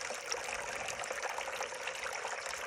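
Moving water from an outdoor garden water feature in a city succulent garden trickles and splashes in a steady, even stream, close and continuous with no voices.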